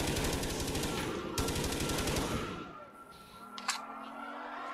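Rapid automatic gunfire in Black Ops III Custom Zombies, a dense rattling burst that runs loud for about two seconds before dropping to quieter game ambience with a few faint clicks.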